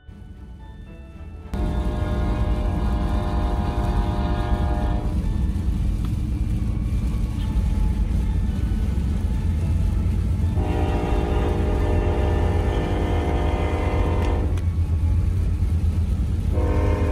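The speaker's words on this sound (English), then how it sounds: "We're gonna see if we can beat this train" A train rumbles past nearby with a heavy, continuous roar, its horn sounding in two long blasts over the passing cars.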